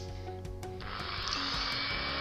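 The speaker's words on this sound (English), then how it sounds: "Here we are, still drilling." A drill bores into a die-cast metal toy car, a Matchbox Mercury station wagon, giving a steady, loud whining grind that rises and then holds through to the end.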